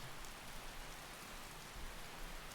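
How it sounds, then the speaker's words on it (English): Pouring rain in Skyrim, a steady, broad hiss of heavy downpour spattering on surfaces, constant and enveloping with no pauses, faint overall. "that's a bit of a downer coming into the pouring rain"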